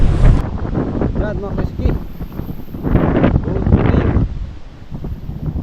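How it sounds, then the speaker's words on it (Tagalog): Strong, cold wind buffets the microphone outdoors on the way to a fishing spot, gusting in low rumbling waves while someone talks over it. "Medyo mahangin mga kaiski, malamig."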